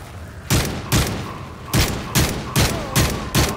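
Gunfire in a first-person shooter game, Search and Destroy mode: about eight loud, close shots or short bursts spaced unevenly across a few seconds, each sharp with a brief tail, no talking.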